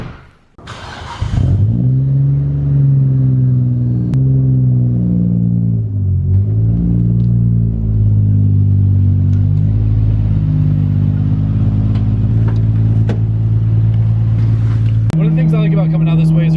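Nissan R34 GTR V-Spec in Midnight Purple cruising at speed, a steady loud engine drone with road rumble that holds a constant pitch, dipping briefly once, then shifting up near the end.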